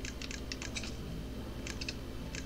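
Computer keyboard keys pressed in quick clusters of clicks while game controls are rebound for The Vagrant, with a few pauses between bursts and no talking.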